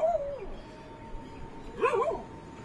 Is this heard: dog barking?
yes